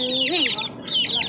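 Chickens and a rooster clucking close by on a farm, a rising cluck followed by overlapping higher squawks from several birds, continuous and fairly loud.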